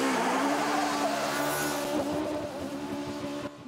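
Rally car driven hard on gravel roads in North Northumberland, its engine roaring and revving close up through gear changes while the tyres scrabble and squeal, loud and continuous.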